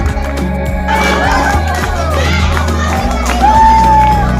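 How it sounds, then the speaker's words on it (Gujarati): A children's crowd at a school grammar competition cheers and shouts for the contestants, a loud, dense mix of young voices with whoops rising and falling, close and filling the room. "બધા માટે તાળી પાડી દો"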